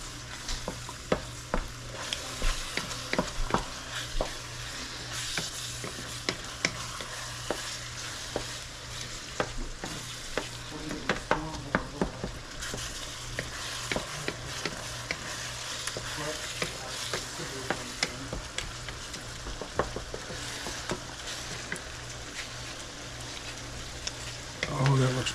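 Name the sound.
stirring seasoning into frying taco meat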